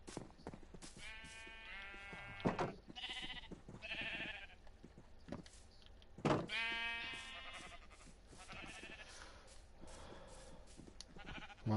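Sheep bleat repeatedly in a PS4 video game, several drawn-out, wavering calls spread across the clip over a busy background of game sounds, with no talk.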